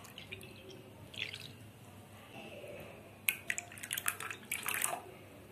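Water pours into a pot while a beetroot drink is being made at home, a soft splashing stream that grows louder and more broken toward the end, with no talking.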